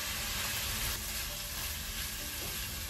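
Soy sauce poured over rice frying in a pan, giving a loud, continuous sizzle with light stirring noises and no voices.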